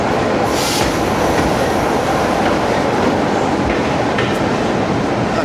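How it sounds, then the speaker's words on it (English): A heritage train at a Great Central Railway station, its steady loud rumble of wheels and rolling stock filling the platform with faint clicks and a brief high squeal, close and continuous throughout. "this is the train that's going back to Leicester"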